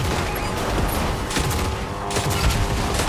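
Dense bursts of video-game gunfire from Fortnite crackle almost continuously at close range, with a few louder shots standing out over a steady background din.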